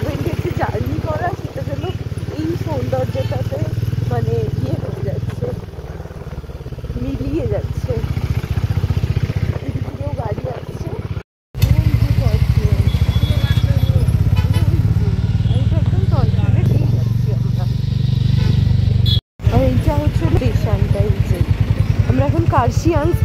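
A motorbike riding the mountain road from Kurseong to Pelling, a steady low engine drone running throughout with someone talking over it, broken by two brief gaps.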